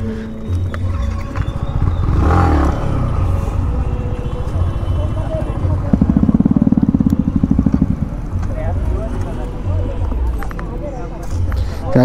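Several motorbikes idle and rev nearby as one is rolled into place beside them, engines rumbling steadily throughout with a louder burst midway, while people talk in the background.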